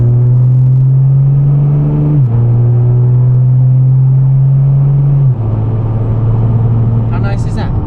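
A big-turbo BMW 340i driving smoothly at a steady pace, with a low, even engine drone that steps down twice as it shifts gears, heard from inside the car, with brief talk near the end.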